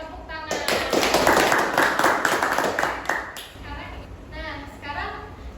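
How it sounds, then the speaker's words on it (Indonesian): A group claps hands together in a classroom sociodrama session, a burst of close, sharp claps lasting a few seconds with talk running over and after it. "Oke, tepuk tangan."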